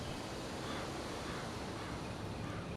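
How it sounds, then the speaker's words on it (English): A muffled waterfall inside a Team Fortress 2 jungle map heard as a steady, even rush of broadband noise, constant and unbroken with no voices, then cutting off abruptly. "if you stand inside, you can actually hear some muffled waterfall"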